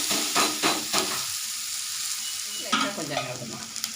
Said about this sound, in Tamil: இப்போ அடுத்த தோசை மாவு கல் காஞ்சது ஊற்றுறோம். மேலே எண்ணெய் விடணும்.